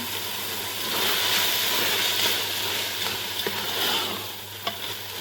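Grated carrots sizzling and being stirred in a pan while frying for carrot halwa, a steady close hiss with faint scraping stirs and no talk.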